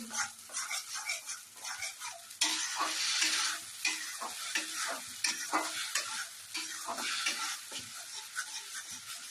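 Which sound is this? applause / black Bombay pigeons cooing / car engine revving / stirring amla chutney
stirring amla chutney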